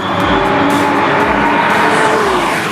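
Porsche 911 991.1 GTS with PDK gearbox driven flat out on a race track: a loud, steady engine roar at high revs, sustained and close with no break.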